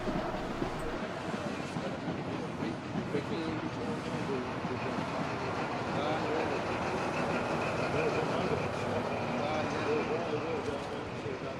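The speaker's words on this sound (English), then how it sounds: "I arrive just in time to catch the Pullman stock returning from Upperby Depot." Midland Pullman train stock rolling back from Upperby Depot, a steady mid-distance rumble and rattle of wheels and carriages with scattered clanks, sustained for the whole stretch.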